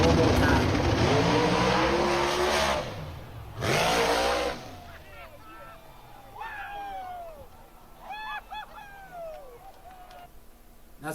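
A nitrous rail dragster roars off the line in a big wheelie, its engine blaring loud and sustained before cutting off, then crowd noise and commentary-like voices carry on underneath.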